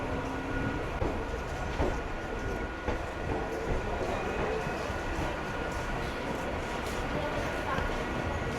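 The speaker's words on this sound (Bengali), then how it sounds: "3 নম্বরে ঢুকছে আমাদের ট্রেন। আমাদের ট্রেন এন্ট্রি করছে।" A train rolls into platform 3 at Bongaon station on the Kolkata–Dhaka route, a steady, loud rumble of wheels and carriages with faint voices beneath it.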